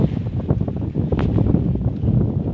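Wind blows hard across an outdoor microphone, producing loud, continuous low rumbling and buffeting with uneven gusts throughout.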